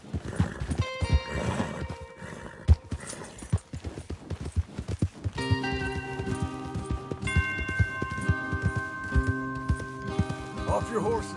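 Horses gallop and neigh in the video game Red Dead Redemption 2, with steady clip-clop hoofbeats and whinnies over music and voices, loud and close throughout.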